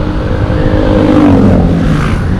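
A motorcycle fitted with a loud modified knalpot brong exhaust, a stock muffler that has been gutted, revs hard up close on a city street at night in Cianjur. The engine roars continuously with a rising and falling pitch, and no one speaks.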